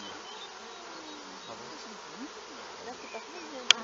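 Honeybees in an open, working production hive give off a steady, dense buzz that holds throughout, close and even, with a sharp click near the end.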